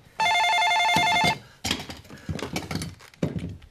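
A telephone bell rings in one loud burst of about a second in a Korean TV drama scene, followed by a few thumps and rustling clatter with no talk.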